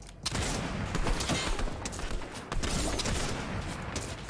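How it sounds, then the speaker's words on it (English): Dense, continuous gunfire from Fortnite fills the moment, rapid overlapping shots rattling without pause, loud and close throughout. "I'm getting shot at from behind."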